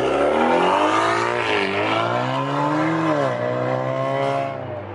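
A loud Alfa Romeo Giulia engine, catless and straight-piped, revs hard with harmonics rising and falling in several surges, sustained throughout, then easing off at the end.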